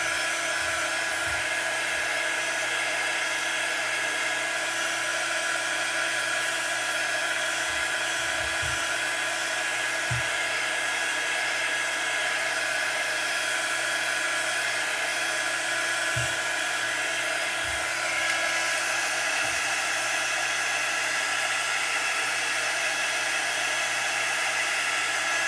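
Heat tool drying glow-in-the-dark paste on a Chalk Couture stars project, a continuous high-pitched motor whine and airflow hum held steady throughout, with a few faint low knocks.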